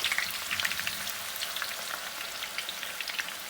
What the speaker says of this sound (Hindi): फिर आप इसके अंदर प्याज डाल दें।